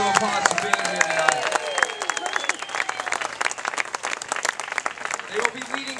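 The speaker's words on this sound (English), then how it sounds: "Give these young ladies a round of applause for being here tonight." A crowd claps for a Girl Scout troop at an opening event in Bel Air, loud dense applause with cheering voices and excited shouts throughout.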